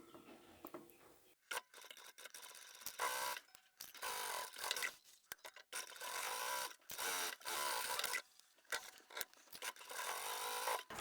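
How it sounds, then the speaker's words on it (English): A sewing machine stitches a zippered phone pouch with a front pocket in short, close bursts of buzzing separated by brief pauses, with no talking. "I'm in a nice safe place there so I can start sewing here"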